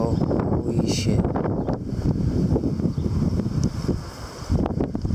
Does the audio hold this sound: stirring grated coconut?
no